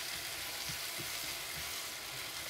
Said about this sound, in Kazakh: 5 минуттай жұмсарғанша қуырамыз